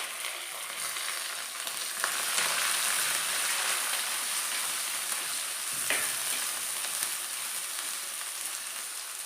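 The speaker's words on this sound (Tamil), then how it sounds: "நல்லா கொஞ்ச நேரம் வதங்கட்டுங்க." Green chilli, onion and curry leaves sizzle and crackle steadily in hot oil in a pan, a close, even frying hiss with occasional stirring scrapes and no voices.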